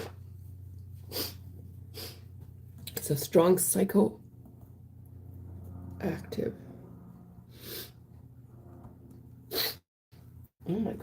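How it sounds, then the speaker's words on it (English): Sneezing from a head cold, several short explosive sneezes and sniffs scattered between stretches of a person talking, close and fairly loud. "Lots of sneezing with this cold."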